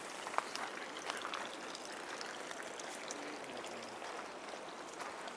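Water bubbling in a small pond under a shade tree at a green oasis in the middle of the desert; soft, continuous trickling and gurgling with fine scattered drips, fairly faint and steady, no voices.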